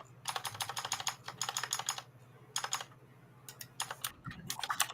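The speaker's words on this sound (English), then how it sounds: "Sounds like a mechanical keyboard to me." Bursts of rapid, clicky mechanical keyboard typing, close up, in several runs separated by short pauses, with a low steady hum underneath.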